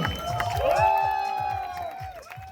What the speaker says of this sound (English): Let's give him an ace and cheer,